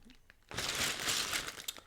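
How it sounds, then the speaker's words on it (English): A plastic bag holding a LEGO set crinkles up close, a short burst of rustling after a quiet moment, then a few fainter crackles. "Oh, there's a crack in the plastic bag, so I have to be careful."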